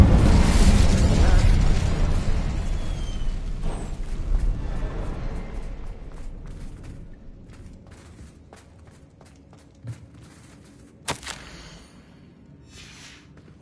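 An Incendio fire spell is cast in Hogwarts Legacy: a loud burst of roaring fire and crackle at the start that fades over several seconds, followed by a few faint pops and light footsteps in a quieter stretch.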